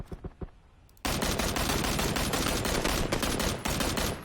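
Gunfire in PUBG: a few separate single shots, then a sudden, dense, loud burst of rapid automatic fire that rattles on continuously at close range with no talk.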